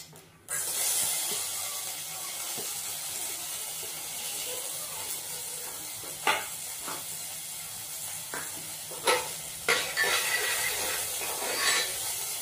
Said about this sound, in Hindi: उसके बाद इसमें डालते हैं प्याज।